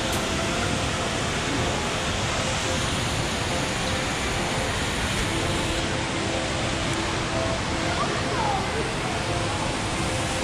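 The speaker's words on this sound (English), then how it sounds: "The waterfall everybody's been talking about in Changi Airport." A tall indoor waterfall at Jewel Changi Airport in Singapore roars as a dense, constant rush of falling water, steady and loud throughout, with a voice speaking over it.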